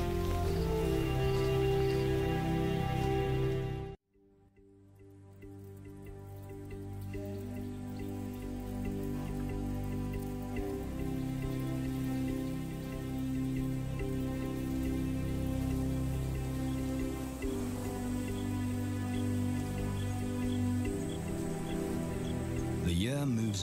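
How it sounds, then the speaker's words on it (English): Steady rain patters and drips on surfaces, broken by a brief silent gap near the start, then continuing evenly with faint background sounds. "Playing in the rain,"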